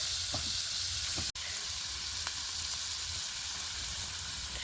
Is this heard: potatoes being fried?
yes